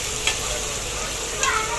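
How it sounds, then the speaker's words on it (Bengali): Mutton lungs frying in a pan, stirred under a steady close sizzle, with two brief scraping clinks of the spatula against the metal. "মাটন ফেফড়াটা দিয়ে আবার 5 মিনিট ধরে এটা নাড়বেন।"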